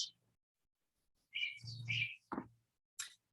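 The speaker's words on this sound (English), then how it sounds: "All right, northern water thrush." A northern waterthrush sings a short, loud run of sharp, high chirping notes, followed by a few separate clipped call notes, clear against quiet.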